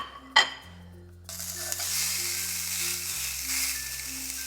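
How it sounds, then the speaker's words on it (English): Sous vide steak laid onto a hot cast iron skillet: a sharp knock, a short pause, then a sudden loud sizzle that holds steady and close, over a faint low hum. "let's go ahead and put this on the cast iron skillet here."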